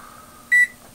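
Microwave oven gives one short, clear electronic beep over its low steady hum, close and alone.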